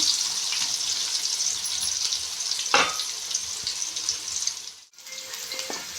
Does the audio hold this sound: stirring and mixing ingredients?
yes